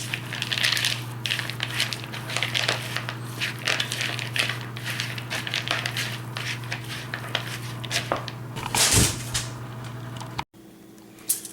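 Chicken-thigh stuffing being stirred with a cup of pistachios, giving a steady run of close crunchy scraping and clattering strokes over a constant low hum, then a brief louder rattle before everything cuts out.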